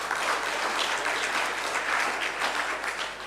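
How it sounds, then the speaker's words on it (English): Audience applause at a rural youth agribusiness employment event, a steady, full round of clapping from a crowd, continuous and fairly close, with no talking. "Please clap for yourselves today."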